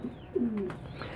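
Pigeons cooing close by, a soft low coo followed by a longer throaty rolling coo, heard alone without voices.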